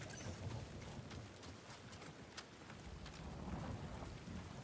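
Steady rain pours with rolling thunder in the video game Marathon, a dense continuous wash of downpour with low rumbles underneath and no talk.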